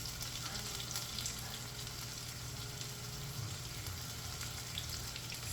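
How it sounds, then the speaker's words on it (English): Salmon fries in a pan, a steady, even sizzle and crackle throughout, fairly quiet and close, with no talking. "here we have our salmon frying"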